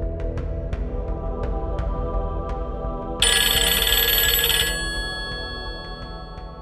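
An office telephone rings with a bright electronic ringtone, a short run of sharp repeated tones followed by a sustained shrill burst, loud and close against a low background hum, with no voices.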